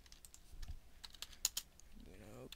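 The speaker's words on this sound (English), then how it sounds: "sorry about the typing" Quick, irregular keyboard clicks and clacks at close range, with a few louder key strikes and a faint voice-like hum near the end.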